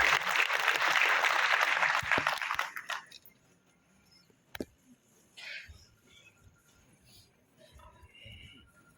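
Crowd at a political gathering applauding a guest as he comes forward, a brief loud burst of clapping that stops after about two seconds, followed by quiet room noise and a few isolated knocks.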